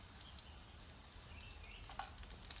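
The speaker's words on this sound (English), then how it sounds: "I'm going to add my bacon back to my skillet." Bacon sizzling in a skillet while making carbonara, a faint, steady crackle and hiss with small pops near the end.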